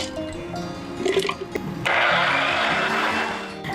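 A kitchen mixer grinder purees bottle gourd, green chilies, ginger and garlic for Gujarati lauki muthiya, with a few clattering knocks and stop-start bursts before settling into a loud, steady whirring grind.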